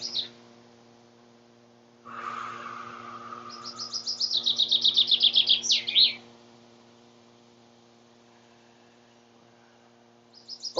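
Birds chirp in a garden: a quick run of bright, repeated tweets rises and breaks off, with another short call near the end, over a low, steady hum.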